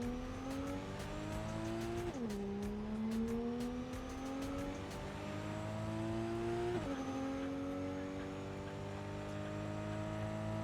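A car engine in Cyberpunk 2077 strains at high revs as if stuck in gear, a loud sustained whine that climbs, drops sharply twice, then climbs again, with no talking.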